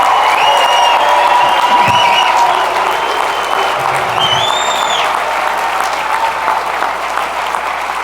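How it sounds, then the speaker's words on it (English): Sustained applause from the crowd at a Saints Hall of Fame luncheon fills a large room, dense and loud throughout, with a few scattered shouts and whistles rising above the clapping. "One more round of applause for Saints Hall of Famer Drew Brees."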